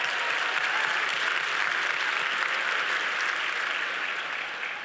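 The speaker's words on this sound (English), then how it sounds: "Clap for that." An audience applauds at the connectED 2025 education event in Houston, steady dense clapping from a large crowd, sustained at an even level before tapering slightly.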